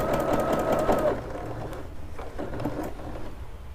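A Bernette Sew & Go 8 sewing machine quilting with a walking foot hums steadily up close, its needle running at a fast, even rhythm that slows a little partway through.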